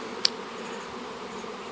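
Honey bees hum steadily around a small bait hive set beside a larger hive, a continuous close droning buzz with one brief louder pass near the start.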